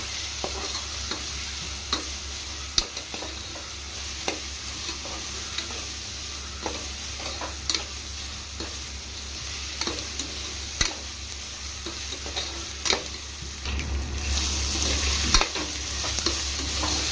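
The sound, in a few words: ginger garlic paste frying in a pan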